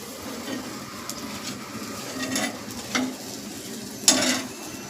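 Puran poli frying in oil on a pan gives a soft, steady sizzle at low level, broken by a few brief scraping and clinking touches of a utensil, with no voices.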